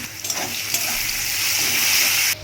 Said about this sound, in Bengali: এই তেলে আমি কালো জিরা ফোড়নে দিয়ে দিলাম। কেটে রাখা বেগুনগুলো দিয়ে দিলাম।